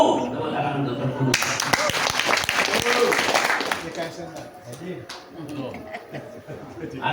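An audience at an Islamic organisational gathering breaks into a burst of applause for Pergunu, loud at first and then thinning out, while a speaker's voice and some chuckles carry on over and after it.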